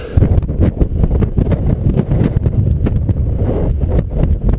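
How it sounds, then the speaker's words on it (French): Strong wind buffets the microphone in low, rumbling gusts that keep going throughout, loud and close with no voices. "Il y a un petit peu de vent aujourd'hui."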